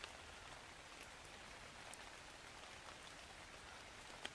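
Steady rain pours down in the ARK Steampunk game world, a constant dense hiss with scattered droplet ticks, alone and fairly quiet throughout.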